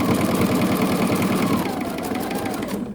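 Sewing machine stitching fabric scraps, a close, fast and even mechanical whirr with a rapid needle rhythm that holds steady for a few seconds.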